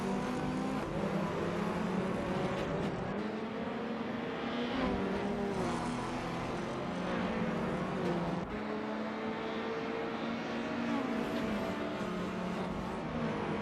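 Race cars in a TCR racing video game drone and rev continuously, engine pitches rising and falling as several cars accelerate and shift, steady and fairly loud throughout with no speech.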